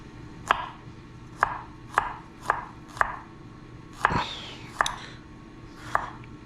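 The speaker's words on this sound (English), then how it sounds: "Give our garlic some nice little slices." A knife slices garlic on a cutting board in about nine crisp, evenly spaced taps, close and fairly quiet, with a soft voice murmuring between some of the cuts.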